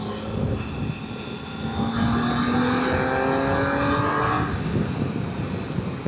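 An 800cc superbike's engine and exhaust rev up close by, a smooth, steady droning note that climbs and holds before easing off.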